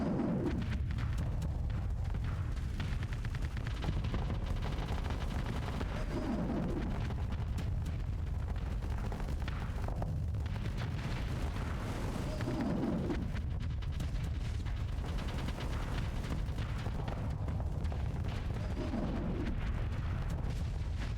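Ship weapons firing in the space combat video game Starsector, with dense continuous rumbling booms and repeated bursts of artillery-like fire at steady loudness throughout, with no talk.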